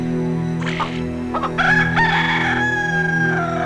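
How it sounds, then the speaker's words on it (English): A rooster in the video game Discworld II crows loudly in a full cock-a-doodle-doo, with several clucking bursts leading into a long drawn-out final note over a steady background hum. "Now we have one crowing rooster."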